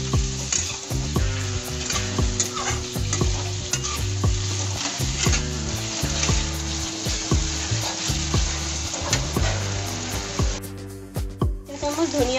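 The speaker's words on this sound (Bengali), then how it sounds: "মশলাগুলো ভালোভাবে ফ্রাই করে নেব।" Spices frying and being stirred in a pan for fish curry, loud steady sizzling with frequent scraping clicks of a spoon against the pan, continuing without talk.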